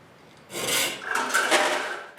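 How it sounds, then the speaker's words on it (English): A band saw blade is sharpened with a file in a woodworking shop: a couple of close, dry rasping strokes follow a quiet start over about two seconds. "I sharpen my bend saw blade."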